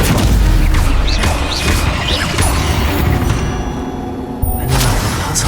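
A Stupefy spell in Hogwarts Legacy lands with a heavy booming crash, followed by a rumbling, clattering tail and a sharp thump near the end.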